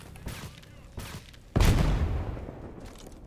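Gunfire and a grenade blast in the STALKER video game: a few sharp shots, then a loud, broad explosion that swells and rumbles away over a couple of seconds.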